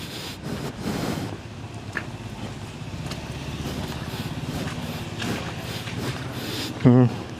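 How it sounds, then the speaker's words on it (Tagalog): Floodwater rushing down a swollen river after a typhoon, a constant broad roar mixed with wind buffeting the microphone, with someone talking over it and a short louder burst near the end. "Kaya rumaragasa yung tubig dito sa ilog."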